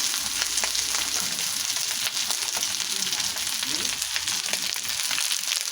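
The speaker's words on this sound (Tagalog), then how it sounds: "Fried rice tayo." Fried rice frying in a pan, a constant dense sizzle and hiss up close with occasional soft clicks of stirring.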